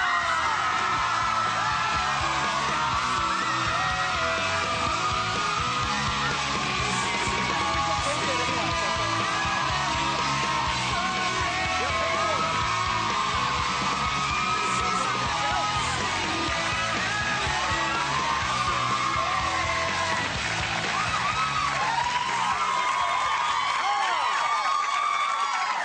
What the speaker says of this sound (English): Start your screaming now for Zac Efron!